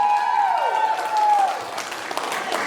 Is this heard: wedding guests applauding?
yes